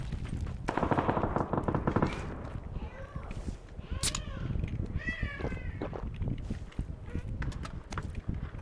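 Gunfire in the battle royale game PUBG: rapid bursts of automatic shots and single cracks over game ambience, with a person talking over parts of it.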